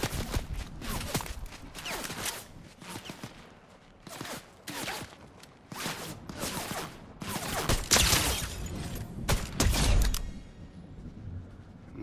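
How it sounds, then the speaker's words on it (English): Gunfire in the Fortnite video game, final circle near water: repeated sharp shots in irregular bursts through the clip, fairly loud and close, with no talk. "somebody's shooting at me"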